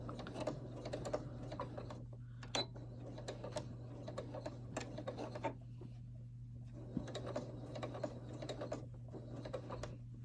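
A home sewing machine stitches fabric for a face mask, a faint steady mechanical chatter in short runs over a constant low hum, with a few clicks and pauses between bursts.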